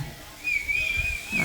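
At a village stage performance of the Valli Thirumanam drama in Kurunthur near Devakottai, a single shrill, steady whistle from the audience holds for about a second over low crowd rumble.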